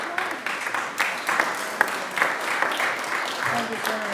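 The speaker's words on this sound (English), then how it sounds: "You can applaud" Attendees at a senators' press conference applaud, a steady spread of clapping from a modest crowd with a few sharper individual claps standing out, lasting several seconds.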